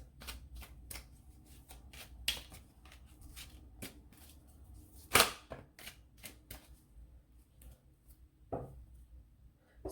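Tarot cards are shuffled in a quiet room, producing soft, rapid riffles and crisp snaps in irregular clusters, with one sharper slap near the middle.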